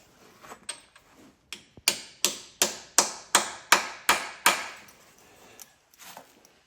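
Stud extractor hammered into a broken bolt on a Cummins flywheel housing: about eight sharp metallic strikes in an even rhythm, loud and close, with a few lighter taps before and after.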